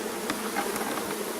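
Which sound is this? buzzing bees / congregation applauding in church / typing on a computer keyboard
buzzing bees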